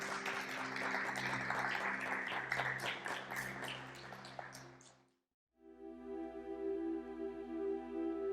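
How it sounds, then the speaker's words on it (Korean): Korean church congregation giving applause after a Sunday message, a burst of many hands clapping for about five seconds that cuts to a brief silence, followed by sustained tonal music. "우리 하나님께 영광의 박수 올려드립니다"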